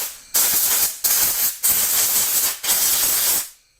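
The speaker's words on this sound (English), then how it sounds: "let's go ahead and give it a quick little blow here with the air compressor." An air compressor nozzle blows down an RC car chassis in four loud, close bursts of steady hissing air with short pauses between them.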